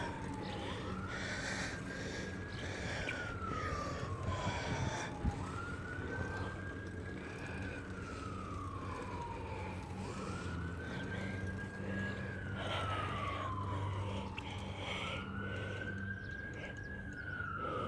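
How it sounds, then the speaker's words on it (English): Ambulance sirens wail in a slow, repeating rise-and-fall pattern, four long sweeps at moderate distance over a low background rumble, with no talking. "Guys, there's ambulances."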